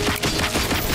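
A short, dense volley of rapid gunfire from the shooter game Robocop: Rogue City, loud and continuous across the whole second with no pauses.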